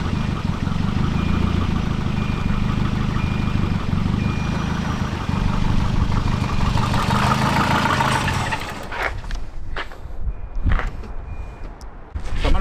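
A Volvo car engine idles with a steady mid-pitched hum and faint ticking, then the running note drops away into quieter clicks and handling noises near the end.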